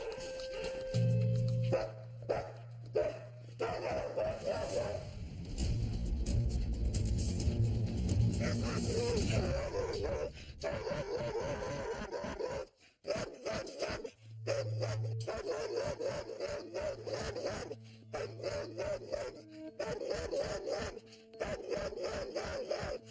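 Rocky, a dog at Jolene's house, lets out repeated sharp barks in bursts, close and loud, with a few groaning yips between runs and short pauses.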